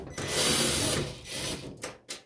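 A power screwdriver backs out screws from the front control panel of a gas dryer, a short whirring run followed by two brief bursts, close and clear.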